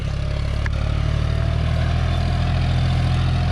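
A John Deere 5045D tractor engine labours under load, droning steadily at low pitch, close and loud, sounding strained as if about to stall without letting up.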